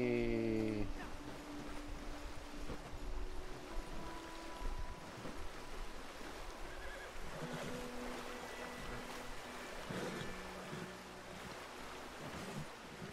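Rushing river water in the game Red Dead Online: a continuous broadband wash of flowing water and surf-like noise, steady and close, with faint tonal game sounds and brief clatter layered over it.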